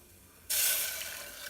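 Water poured into a pan of lightly roasted galangal root for a herbal cough syrup, a sudden bright splashing rush that starts abruptly halfway through and then eases slightly, close and alone.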